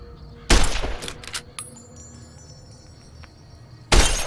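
Gunshots shatter sarsaparilla bottles in the Fallout: New Vegas video game: a loud close shot with breaking glass, a couple of quicker cracks, quiet ambience, then another loud shot at the end.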